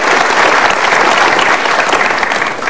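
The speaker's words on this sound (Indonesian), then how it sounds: "Kita berikan aplaus untuk Stephen" A studio audience claps steadily for a guest on an Indonesian talk show, a dense, loud round of applause from a crowd that holds for the full stretch without a break.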